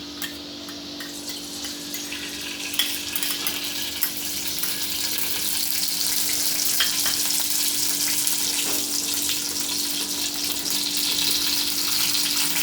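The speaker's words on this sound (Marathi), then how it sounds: "तुपात रवा भाजून घेऊया" Semolina roasting in ghee in a heated kadhai over a low flame makes a steady, close sizzle with frequent light scraping and stirring scratches, continuous for over twelve seconds and growing slightly fuller partway through.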